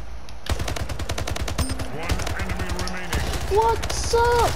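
SMG gunfire in the video game Splitgate, rapid bursts of automatic shots in quick succession with game effect tones mixed in, loud and close.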